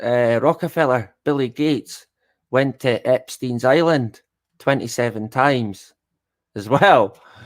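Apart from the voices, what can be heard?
No everyday noise stands out behind the speech.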